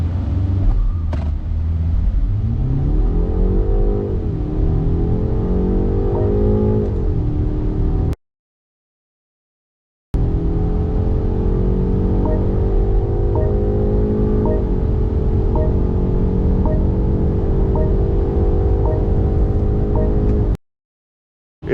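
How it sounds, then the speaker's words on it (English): A 2024 BMW 530Li's two-liter four-cylinder engine accelerates from a start, its rising drone climbing through gear changes in steady sweeps, heard from inside the car with a brief cut of silence partway through. "It's a good engine, it sounds really good"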